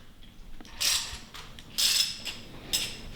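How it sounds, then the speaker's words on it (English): Ratchet fitted with a 16 mm socket working on the serpentine belt tensioner of a 5.7L Ram Hemi, giving three bursts of bright clicking and mechanical rasping separated by short pauses, close up with no talking. "take this one, which is a number 16 on a ratchet,"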